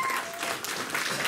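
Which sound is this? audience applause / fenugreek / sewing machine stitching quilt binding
audience applause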